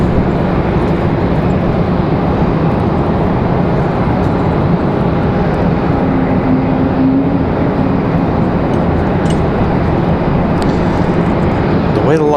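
A Southwest Boeing 737 Max 8 airliner at Raleigh-Durham airport produces a steady, broad jet roar that holds at a constant loudness throughout, heard from a distance with faint talk in the background.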